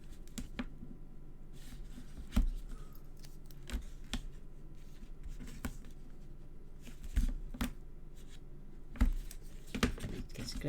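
Scissors make sharp, scattered snips as paper is trimmed for a handmade album, close and quiet, with soft handling rustles between the cuts.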